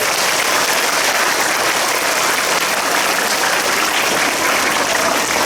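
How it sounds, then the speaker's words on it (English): A school assembly audience applauds in a dense, sustained burst of clapping at steady volume, with no talking over it. "Should we give her another round of applause?"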